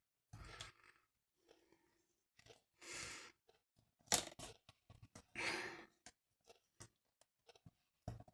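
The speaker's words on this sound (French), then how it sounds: "Vous enlevez l'opercule du scotch comme ceci." Scattered crinkly peeling and tearing sounds come in short bursts from adhesive tape backing being pulled off, close and quiet, with pauses between them.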